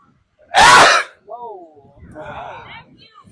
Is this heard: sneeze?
yes